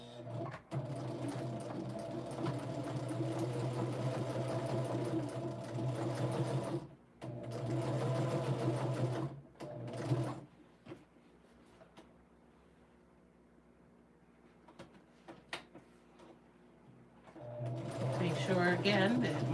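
A sewing machine runs steadily as it stitches quilt seams for a layer-cake lollies quilt, with a long even hum broken by short pauses. Someone talks quietly during a lull before the stitching picks up again.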